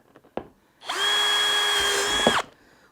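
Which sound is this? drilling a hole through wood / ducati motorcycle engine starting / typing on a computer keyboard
drilling a hole through wood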